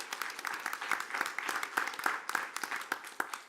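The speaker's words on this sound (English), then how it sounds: "give them a round of applause there for their work" An audience at a regular school board meeting gives steady applause, a soft, even patter of many hands clapping with a few sharper claps standing out, continuing throughout.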